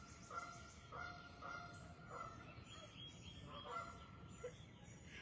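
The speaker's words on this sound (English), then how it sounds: "The geese are sounding their opinions too, right?" Several geese honk at a distance, their calls overlapping in loose bursts over a soft outdoor background hum.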